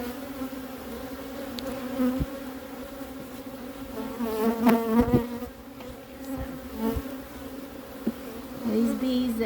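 Steady, dense hum of many honeybees buzzing close by around their hive, a continuous droning swarm with occasional louder passes near the listener.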